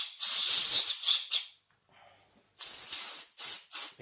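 An aerosol can of solvent sprays onto greasy, swarf-clogged plugs from a Harrison milling machine, giving bursts of close hissing: one long spray, a pause, then several shorter blasts.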